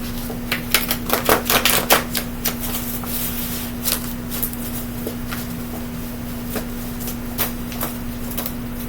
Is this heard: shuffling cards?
yes